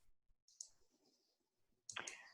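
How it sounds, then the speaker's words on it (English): A computer mouse is clicked to unmute, giving a few quiet, crisp clicks in two small clusters separated by a short pause. "I'm clicking on unmute"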